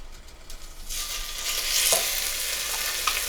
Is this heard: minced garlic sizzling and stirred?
yes